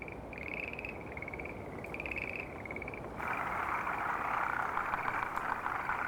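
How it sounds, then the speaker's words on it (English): Forest green tree frogs call at night in a dense chorus, repeated trilling pulses over a constant hiss of many distant frogs, swelling louder and fuller after a few seconds. "Forest green tree frogs"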